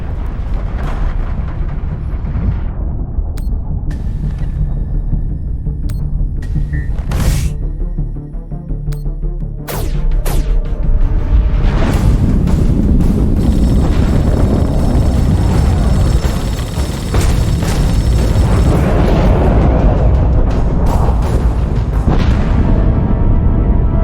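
Torpedo blasts in The Expanse space combat game: deep rumbling booms and bursts layered over a loud, dense game soundscape with sharp impacts throughout.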